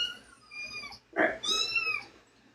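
Six-week-old kittens meowing close by, a short run of high, wavering meows with a louder cry in the middle and a few softer calls after it.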